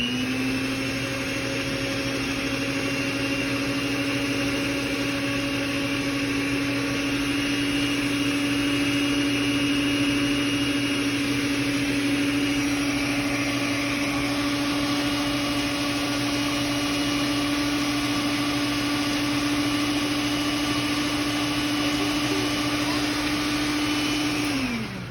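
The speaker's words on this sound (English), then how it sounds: "And then I'm going to turn the beater on and let it beat the eggs in." An electric beater runs continuously while beating eggs into sugar and oil, a loud steady motor whine close by that holds its pitch throughout and dips briefly at the very end.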